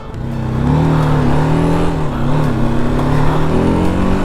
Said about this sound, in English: I can say the engine is roaring.